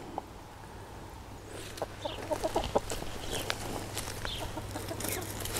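Backyard hens cluck and chatter in short, uneven bursts close by at a compost pile, with a low steady hum underneath.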